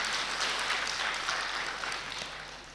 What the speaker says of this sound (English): Then clap yourself. Clap for yourself.